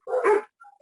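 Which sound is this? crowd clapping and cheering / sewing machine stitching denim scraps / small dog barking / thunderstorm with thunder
small dog barking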